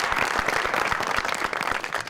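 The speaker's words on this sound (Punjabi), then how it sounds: "ਤੁਸੀਂ ਤਾੜੀਆਂ ਮਾਰੋ" An audience at a live comedy show gives continuous applause. Many hands clap in a dense, steady wash at moderate loudness, with faint crowd murmur and no talk over it.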